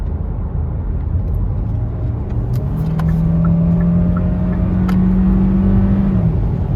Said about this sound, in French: la sonorité du moteur, bon, ça reste un 4 cylindres